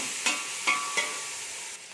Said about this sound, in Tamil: சேர்த்து தக்காளி நல்லா குழைவாக வர வரைக்கும் வதக்கிக்கலாம்.